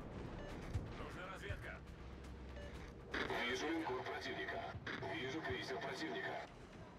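Heavy artillery booms from a cruiser battle in World of Warships, with rumbling salvos and blasts rising loud midway and continuing under someone talking throughout.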